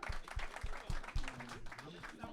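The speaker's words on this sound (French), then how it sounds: "On applaudit s'il vous plaît" A small audience gives a brief, scattered round of handclaps, a few distinct close claps heard over a loose, ongoing stream of talking voices.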